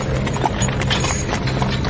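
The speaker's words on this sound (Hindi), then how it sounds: "चुपचाप कोच पर सवार हुआ और घोड़े चल पड़े" Horses pulling a coach clop along in a steady, quick hoofbeat rhythm, heard continuously over a dense background rumble.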